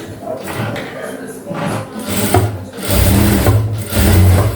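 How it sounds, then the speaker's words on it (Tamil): Sewing machine running in bursts as it stitches a lining seam on a pleated frock or maxi dress, a close steady motor whir that pauses and restarts several times. "அப்படியே திரும்பவும் இன்னொரு தையல் போட்டுக்கிறேன்"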